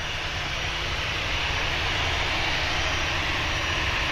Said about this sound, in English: Almost 50-year-old aircraft, the Beach. It's just touched down.